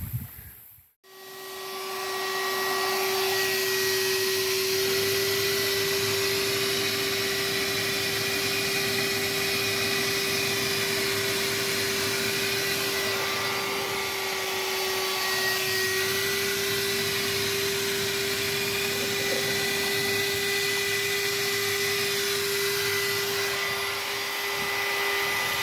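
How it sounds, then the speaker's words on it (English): A cordless wet/dry portable shop vacuum runs steadily for the whole stretch after a brief start, giving a constant loud whine with hiss, close by, with no talking. It is being used outdoors on bedrock while prospecting for gold. "Been working the wet dry, the cordless wet back."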